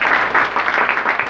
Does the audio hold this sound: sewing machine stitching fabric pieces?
no